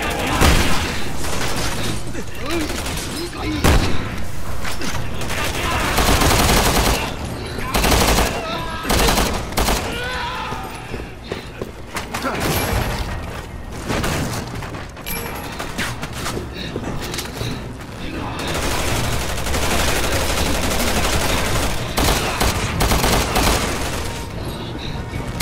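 Heavy video game gunfire fills the scene, with sustained automatic bursts, scattered single shots and booming impacts. The firefight runs loud and continuous, and voices can be heard over it.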